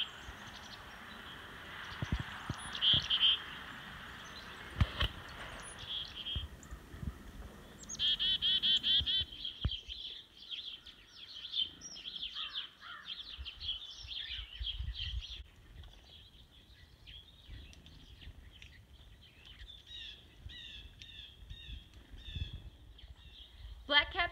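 Black-capped chickadees calling outdoors, a run of thin high chirps and buzzy repeated notes scattered through the clip, moderately near, over faint low rumbling background noise.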